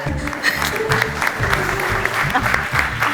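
A comedy show audience bursts into dense, sustained applause that fills the room evenly, loud and continuous, with a voice faintly audible beneath it.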